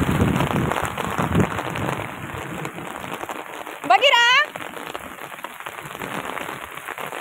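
Steady rain patters on a surface throughout, with a person talking briefly near the start and a short sharp call cutting through midway.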